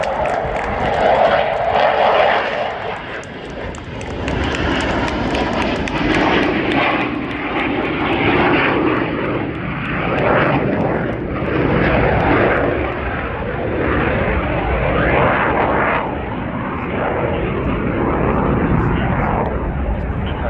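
Italian MB339 jet trainers of an aerobatic team fly in formation at an air show, a loud sustained engine roar swelling and fading as they pass overhead, while a commentator talks over it.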